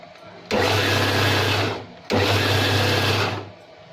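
An electric mixer grinder churns batter for poornam boorelu in two loud bursts, each starting abruptly, whirring steadily for about a second and a half, then winding down.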